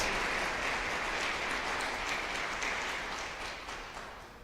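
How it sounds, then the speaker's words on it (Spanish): Church congregation applauding during a sermon, a continuous wash of many hands clapping at a distance, fairly faint and gradually tapering off. "Eso merece un aplauso a nuestro Dios."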